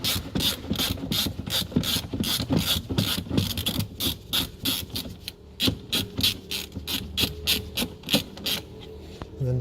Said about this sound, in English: Now we've got the arch liner out of the way, you want to undo this one 10mm bolt.